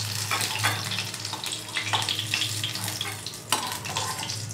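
An egg deep-frying in oil in a pan gives a steady, crackling sizzle with bursts of spattering and stirring, close and continuous without speech.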